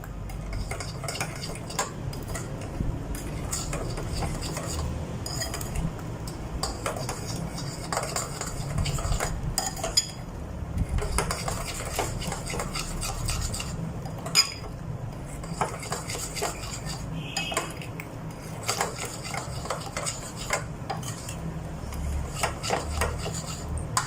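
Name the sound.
stirring ripe mango with sugar in a pot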